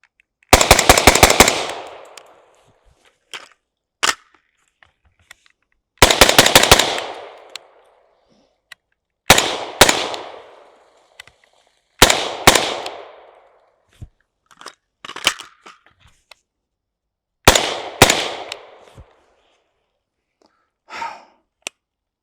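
Taran Tactical V7 Sovereign pistol fitted with a Huxworks suppressor fires in close, loud strings of rapid shots. Each burst is followed by a short decaying tail and a silent gap, with a few isolated single shots between strings.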